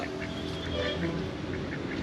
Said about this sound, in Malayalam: ആ അവിടെ കണ്ട താറാവൊക്കെ ഉണ്ട്